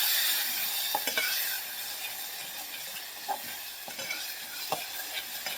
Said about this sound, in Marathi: आपल्याला या कांद्याबरोबर हा मसाला भाजून घ्यायचा आहे बघा